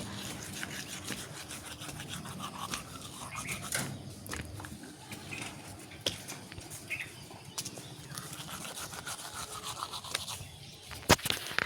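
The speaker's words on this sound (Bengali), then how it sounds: "উঠে গিয়ে ব্রাশ করব" A toothbrush scrubs teeth in quick, uneven back-and-forth strokes, a soft bristly rasp that carries on steadily for several seconds, close and quiet, with a few sharp clicks near the end.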